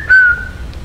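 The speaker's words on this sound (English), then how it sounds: "Hear a little whistle?" A person gives one short, high whistle that glides slightly downward, close and clear, followed by quiet room noise.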